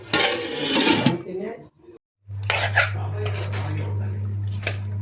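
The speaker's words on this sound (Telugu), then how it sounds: "బియ్యం వేసుకుందాం." Soaked rice goes into a cooking pot for biryani, with metal spoon and utensil clatter against the pot, a brief drop to near silence, then a steady low hum under a speaking voice.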